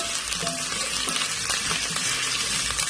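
Potatoes and eggs frying lightly in hot oil for an aloo anday curry, a steady, loud, crackling sizzle with no talking.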